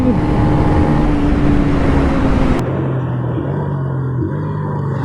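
A Pulsar 150 or Apache RTR 160 motorcycle revving hard during a highway drag race: a loud, continuous engine drone with rushing wind that drops to a lower, steadier tone partway through, as after a gear shift.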